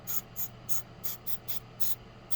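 Hornady cleaning spray hissed into a Ruger pistol in a rapid series of about eight short, close bursts, fairly quiet with faint background hum.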